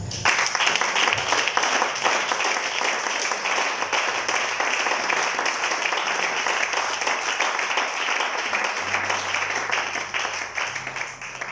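Congregation at a church seminar applauds steadily for the whole stretch, a continuous wash of many hands clapping, loud and even, with faint voices mixed in.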